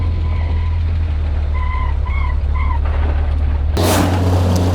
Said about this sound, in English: So I think we've got a little bit of tyre scrub going on there.